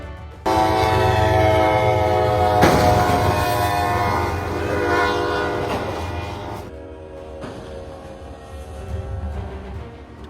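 A heavy train approaches with a loud, sustained horn blast over deep rumbling and rolling wheel noise. The horn cuts off and the train's roar continues more quietly, rising again near the end.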